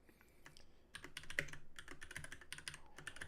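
Rapid clacking keystrokes on a loud, clicky computer keyboard during a live stream, sparse at first and then a busy, uneven run of sharp taps close to the microphone, with no voices.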